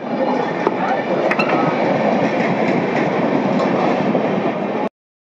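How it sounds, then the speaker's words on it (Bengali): The Black Diamond Express passing through Kumardhubi station, a loud, close, steady rush and rattle of wagons with wheel clatter and brief high squeals, lasting nearly five seconds before cutting off abruptly, with faint voices underneath. "এটা হচ্ছে ব্ল্যাক ডায়মন্ড এক্সপ্রেস, যে ট্রেনটা এখন গেল।"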